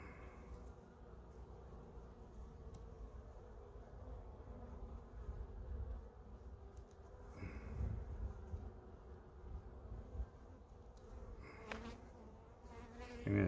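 A quiet, continuous drone of honey bees swarming around a hive during a first inspection, swelling slightly in the middle and toward the end, with occasional handling knocks and no speech.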